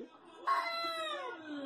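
A cat wearing a football jersey, filmed during a Colombia–England match, lets out one long, rising-and-falling meow, loud and close, after a brief quiet moment.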